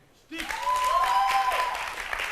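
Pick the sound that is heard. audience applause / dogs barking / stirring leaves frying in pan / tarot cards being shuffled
audience applause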